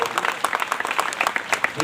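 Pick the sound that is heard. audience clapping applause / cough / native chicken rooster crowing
audience clapping applause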